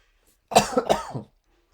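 A single close, rough cough burst with a few quick hacking pulses, surrounded by silence.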